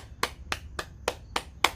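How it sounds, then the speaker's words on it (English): Six sharp hand claps in a steady rhythm, about one every quarter second, close and moderately loud with no talking, during a bouncing morning exercise routine. "Clap your hands."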